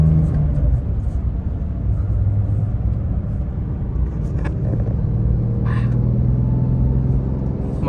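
A bright red Porsche 992 drives along a town street in normal mode, its engine a steady, loud low rumble with continuous road noise throughout and no talking.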